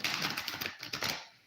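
A deck of cards being shuffled up close, a quick run of crisp fluttering riffles that ends in a soft settling patter.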